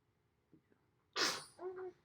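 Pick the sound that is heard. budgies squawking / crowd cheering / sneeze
sneeze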